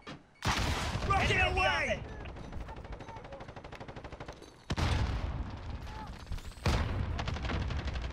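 Rapid automatic gunfire bursts in a video game, loud and close, with a long rattling stream and later abrupt heavy volleys, mixed with a player shouting over the shots.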